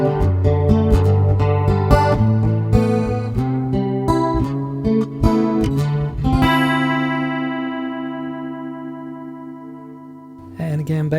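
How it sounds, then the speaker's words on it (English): An acoustic guitar played through the chorus effect of a Zoom A3 acoustic preamp and effects pedal, set to a faster rate, so strummed and picked chords wobble noticeably before a long ringing chord fades and a new strum begins. "Of course, the rate can be increased to give more wobble."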